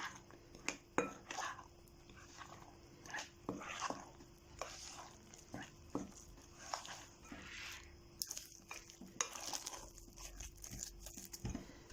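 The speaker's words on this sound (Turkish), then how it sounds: "Hamurumu karıştırmaya başlıyorum." A spoon stirs börek dough in a bowl, with flour, salt and baking powder mixed in, giving quiet, irregular scraping and clinking strokes against the bowl.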